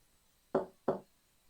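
Two firm knocks on a door, evenly spaced and close, with silence around them, a game sound effect.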